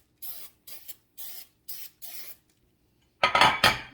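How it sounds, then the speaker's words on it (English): Cooking spray misted onto baking pans for marshmallow cereal bars: five short hissing bursts in a quick rhythm, a brief pause, then two louder, closer spurts. "I'm going to actually just go and spray my pans"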